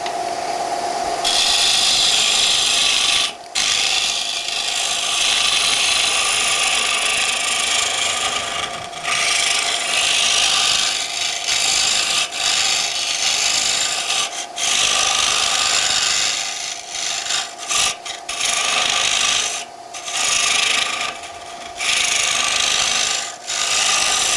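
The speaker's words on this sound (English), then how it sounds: "Keep in mind that I'm cutting Black Locust" A turning tool cuts Black Locust wood while a bowl spins on a lathe, making a loud, continuous rasping scrape close by. It breaks off briefly now and then before the cut resumes.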